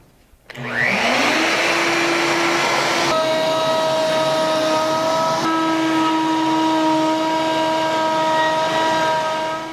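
Shop dust collection vacuum with a large-diameter hose on a router, switching on and then running loud and steady with a rising whine and tonal hum throughout.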